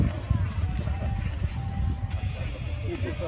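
Horse hooves clip-clop steadily at a horse lovers' gathering in Pajęczno, where a horse pulls a light two-wheeled carriage with shafts and a parasol, the clatter fairly close over background chatter and crowd noise.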